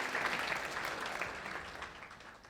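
An audience at a 2017 scholarship event breaks into applause, a steady wash of clapping that thins slightly toward the end of the short burst.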